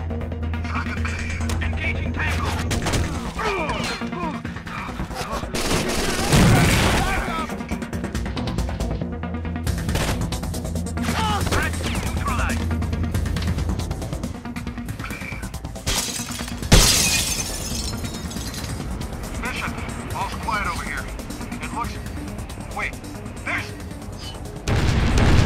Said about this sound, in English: It must have been an explosion.